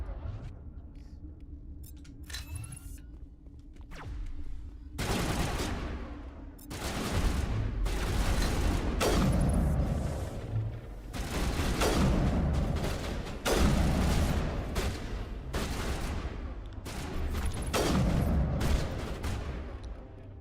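Gunfire in a Mass Effect firefight: after a quiet stretch, heavy bursts of weapon fire break out and continue in loud, repeated volleys with booming impacts, rising and falling over some twenty seconds.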